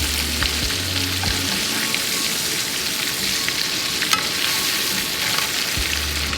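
Walleye fillets fry loudly and steadily in a hot pan on a frozen-lake winter campsite, a dense close sizzle with a few soft clicks and scrapes as the pieces are flipped.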